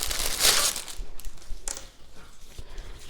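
Plastic packaging around a cross-stitch canvas being opened by hand: close crinkling and rustling, loudest at the start, then softer scattered crackles and taps.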